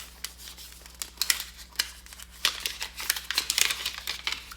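Protective paper is peeled off AirPods Max headphones, giving close, crisp crinkling and tearing rustles in irregular bursts that grow busier toward the end.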